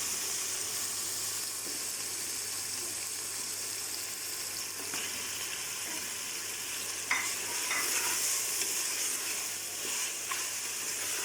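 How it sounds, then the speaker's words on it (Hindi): Meat and spices frying in oil in a pot for a Pakistani chana dal dish with gourd and chicken, a steady close hiss and sizzle with occasional stirring scrapes and clinks, no voices. "गोश्त अच्छे से भून के बाकी मसाले डालेंगे, दाल भी और लौकी भी।"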